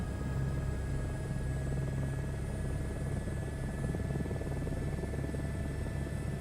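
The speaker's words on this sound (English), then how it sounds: "When the helicopter's first starting up, like the engine's got to get up to RPMs before you can put power to it" Helicopter engine spinning up from startup in Microsoft Flight Simulator, a steady loud whining turbine drone with a low throbbing rotor buzz, constant and continuous with no talking.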